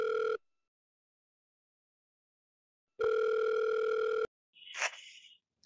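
Telephone ringback tone: two steady electronic tone bursts, one brief and one longer, separated by silence, followed by a short distorted click as the call connects.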